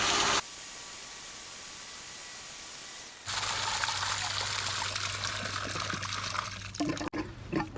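Water from a hose streams and splashes over the grids of a Hayward Pro Grid DE pool filter, starting after a quiet trickle and settling into a steady, loud rinsing rush with some sputtering near the end.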